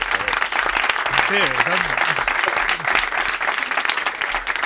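Studio audience at a Spanish live comedy talk show applauds steadily and loudly throughout, with someone speaking briefly over the clapping.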